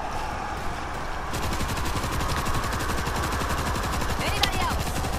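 Sustained rapid heavy-weapon gunfire in a video game, a dense unbroken stream of shots running loud and close throughout, with a voice talking over it.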